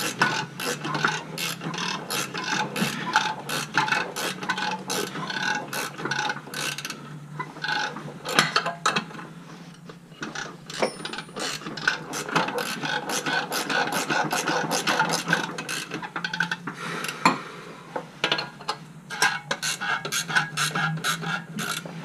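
A hand ratchet clicks in rapid runs of pawl ticks with short pauses while loosening the race pipe on a Mazdaspeed6 during a Corksport turbo install, close and alone.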